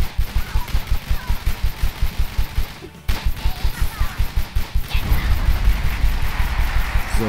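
Tiny Troopers video game gunfire: a steady, rhythmic stream of rapid automatic shots that drops out briefly, then resumes denser and louder over a continuous battle din.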